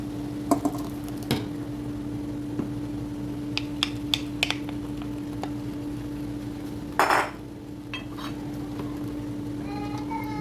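Chopped tomatoes go into a cooking pot over the heat, with a few sharp clinks of a utensil on the pot and a short wet splash and rustle, all close and fairly quiet against a steady background hum.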